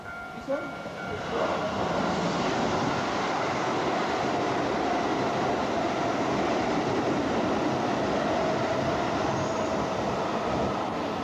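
Steady rumble and rolling clatter from a train in Japan, carrying on without a break, with muffled voices talking faintly in the background.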